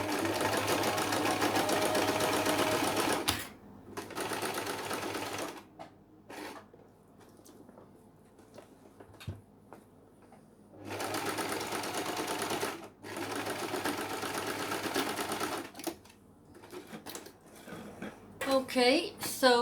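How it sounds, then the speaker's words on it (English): A sewing machine stitches a tricky hat brim seam through three layers, running in steady whirring bursts broken by pauses, loud and close, with someone talking over parts of it. "you just have to make sure that you can sew all 3 layers together"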